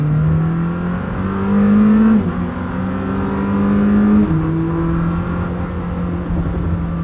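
A 2026 Lamborghini Temerario, a 907 hp car in manual mode, pulls hard with a loud rising engine note that drops abruptly at two distinct gear shifts before climbing again, heard close from inside the cabin without speech.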